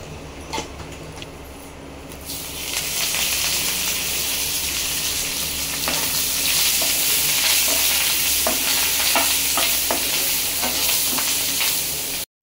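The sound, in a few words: green chillies frying in oil with spluttering mustard seeds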